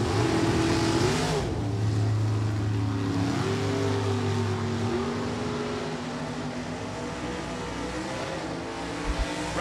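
A 1995 Oldsmobile drag car from the Leahy Excavating team launches hard down the strip at an NHRA drag race, its engine roaring loud and close with rising revs that hold a sustained, heavy drone throughout.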